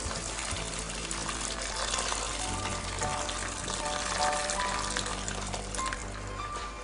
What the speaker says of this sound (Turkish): Şöyle birkaç dakika patateslerle birlikte diğer malzemeleri kavuruyoruz.